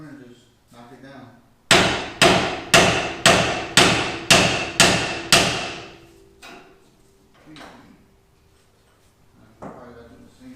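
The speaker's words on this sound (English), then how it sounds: "You just grab a hammer and just knock it down." Eight sharp, evenly spaced hammer strikes ring out on a metal part during engine removal in quick succession, followed by a few scattered knocks and light clatter.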